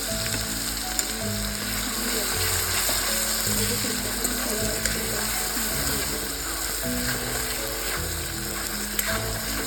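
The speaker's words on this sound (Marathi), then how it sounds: "ते आपण छान तेलात फ्राय करून घेणार" Stuffed okra frying in hot oil gives a loud, steady sizzle that runs unbroken throughout, with a low background hum and occasional faint clicks.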